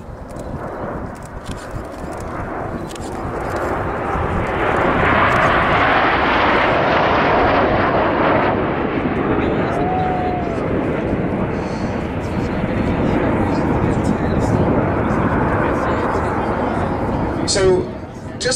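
Nine jet aircraft flying together in a tight diamond formation with smoke trailing, a loud continuous engine roar building and holding steady overhead as they pass, with a brief voice near the end.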